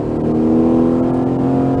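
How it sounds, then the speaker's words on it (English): A race car at SpeedVegas accelerates under full throttle with a steady, loud engine roar and a sustained harmonic pitch, close and uninterrupted, with no talking. "Start squeezing that throttle. Build your power."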